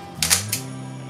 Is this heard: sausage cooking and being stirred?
no